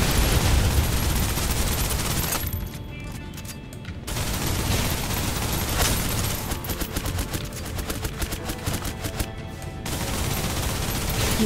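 Suppressive gunfire in the Snowbreak video game: sustained, loud bursts of rapid automatic shots, with a brief lull before the firing resumes in dense rattling volleys.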